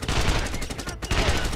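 Rapid bursts of gunfire from a long-range sniper video game, loud and close, with two rattling volleys split by a brief gap of silence.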